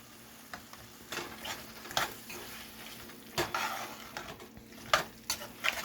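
Tandoori masala being stirred into butter chicken in a pan, intermittent spoon scrapes and clinks against the metal over a low background sizzle, close and fairly quiet.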